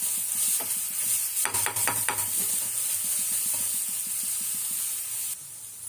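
Chopped ingredients for kara kuzhi paniyaram sauté in a pan with a steady, close sizzle. A short burst of stirring scrapes comes near the middle, then the hiss carries on alone until it drops away at the end.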